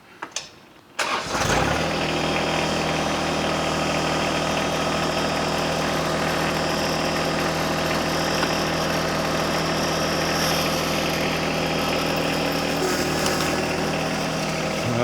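A tractor engine cranks and catches after a second of quiet, then settles into a loud, steady, droning idle that continues to the end.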